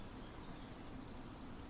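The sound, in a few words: cicadas chirping at night in a field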